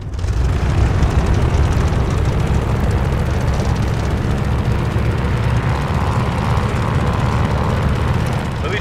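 Propeller fighter plane in Call of Duty: Vanguard, Midway 1942, taking off at full power: a loud, steady engine roar with broadband prop drone that stays constant throughout, no voices over it.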